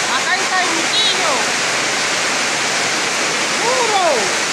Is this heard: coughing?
no